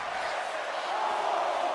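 A large wrestling crowd at a community wrestling show fills the space with a dense, continuous roar of chanting voices, loud and steady throughout with no single speaker standing out.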